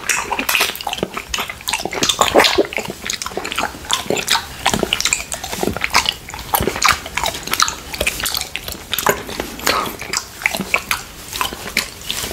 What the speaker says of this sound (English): That's how we eat the fruit.